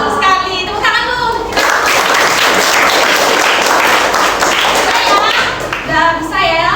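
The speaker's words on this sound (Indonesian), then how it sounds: "Tepuk tangan dulu." Classroom students at a junior high school clap together in a brisk burst of applause lasting several seconds, with children's voices talking before and after.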